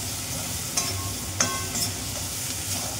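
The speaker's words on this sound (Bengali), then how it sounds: "পেঁয়াজটা একটু ভালো করে নাড়াচাড়া করে ভালো করে পেঁয়াজ, টমেটো, লঙ্কা এগুলো একটু ভাজা হবে।" Onion, tomato and chili with turmeric fry in a pan for vegetarian khichuri, giving a steady soft sizzle broken by a few scraping strokes as they are stirred.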